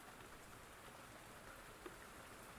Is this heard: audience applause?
no